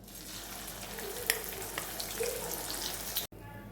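A pan tempering sizzles steadily as asafoetida and pounded korivi karam chutney are added, a continuous close hiss with a few light clinks, cutting off abruptly near the end.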